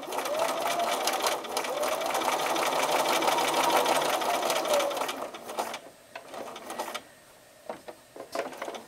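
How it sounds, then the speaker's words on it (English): A sewing machine stitches a quarter-inch seam on a jelly roll mug rug with a honeybee theme, whirring loudly and steadily for about five seconds, then stopping and starting in short bursts. "So put it on there, 1/4 inch seam, and we're going to sew towards the corner."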